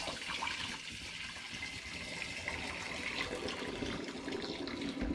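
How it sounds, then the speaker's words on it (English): Sweetened liquid of dissolved honey and sugar pours steadily through a funnel into a glass demijohn, a continuous splashing gush that stays even in level across the whole stretch with no talking. "So using a funnel, it's time to get it into the demijohn."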